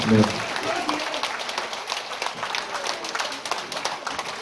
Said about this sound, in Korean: 박수 주세요. 크게 크게.